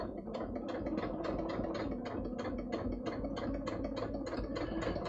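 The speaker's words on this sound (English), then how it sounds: "let me just sew this permanently here" A sewing machine stitches a trouser seam with a rapid, steady mechanical clatter. Its needle ticks form an even rhythm that runs quietly and continuously throughout, with no talking.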